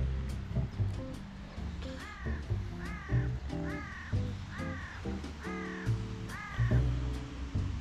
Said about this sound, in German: Hört ihr die komischen Vögel im Hintergrund?